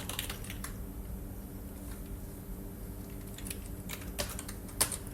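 Quiet typing on a computer keyboard while entering a text area in a simple Google Sheets form: soft, irregular clicks with a few sharper keystrokes, no voices.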